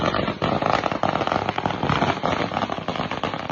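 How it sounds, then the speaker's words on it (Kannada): Firecrackers set off at a college farewell celebration make a dense, continuous crackle of rapid pops and bursts throughout, fairly steady in loudness with no voices on top. "ಸೊ ಲಾಸ್ಟ್ ಅಂತ ಎಲ್ಲ ಪಟಾಕಿ ಹೊಡ್ಕೊಂಡು ಮಜಾ ಮಾಡಿಕೊಂಡು"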